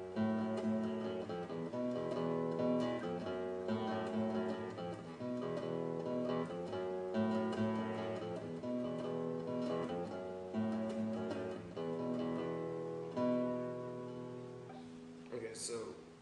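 Electric guitar playing a riff, a repeating low single-note figure with a steady rhythm, heard clearly and alone with no talking.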